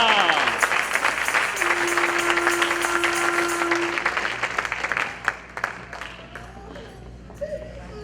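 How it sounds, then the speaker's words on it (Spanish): Congregation applauding inside a church during an evangelical service, dense steady clapping across a crowd with scattered voices and shouts mixed in, gradually thinning toward the end. "¿Cuánto le aplauden al Rey?"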